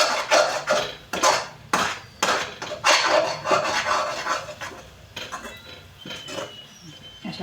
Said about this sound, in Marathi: मिक्स करत राहायचं आहे 1-1 मिनिटांनी, खालून लागू नये म्हणून.